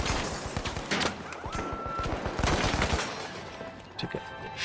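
Turret gunfire in the shooter game The Finals, rapid bursts of shots over dense layered battle noise with overlapping explosions and impacts, loud and continuous.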